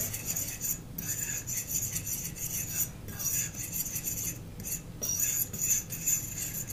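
A fork stirs salt into flour for pizza dough in a bowl, giving a steady, close scraping and rasping with light metallic clinks against the bowl, running continuously with brief pauses.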